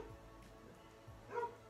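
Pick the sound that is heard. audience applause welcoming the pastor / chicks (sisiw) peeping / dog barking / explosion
dog barking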